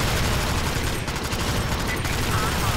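Dense automatic gunfire pours forward at swarming bugs in the video game Alien Swarm, a loud, continuous, overlapping rattle of shots with no pause.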